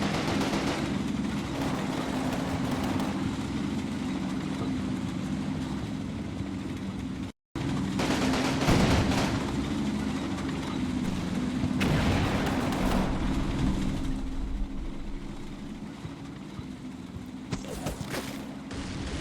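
Tank fire support and small-arms gunfire in the Combat Mission WWII game, set in Poland in 1945: a steady low rumble with repeated distant booms and scattered shots, heard alone with no talk.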